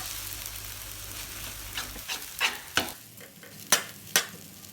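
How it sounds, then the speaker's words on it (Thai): 200 g of fresh glass noodles are stir-fried in a pan for Thai phat wun sen, with a soft sizzle under several sharp, close utensil scrapes and clanks at an irregular rhythm. "พอผัดจนเส้นเริ่มใสนะคะ"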